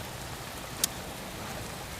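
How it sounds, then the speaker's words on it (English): Heavy rain falls in a steady, even hiss of countless drops, with one brief sharp tick partway through and no voices. "Oh wow, it's raining hard."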